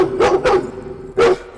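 A dog in a Hindi-dubbed action movie barks three times, two quick barks followed by a single one after a pause, loud and close.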